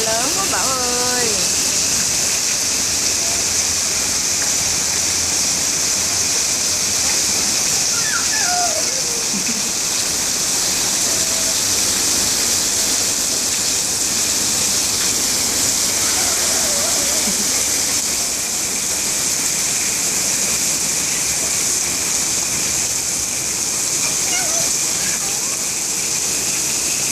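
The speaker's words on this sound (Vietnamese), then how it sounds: "Mưa nhiều quá." Heavy rain in Mexico pours down in a steady, loud, hissing roar that never lets up, with a few faint vocal sounds now and then beneath the downpour.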